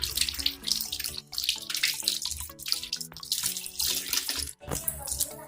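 Hands rubbed and washed under a running tap, the steady splash of water over the sink mixed with wet friction and small drips, close and fairly loud.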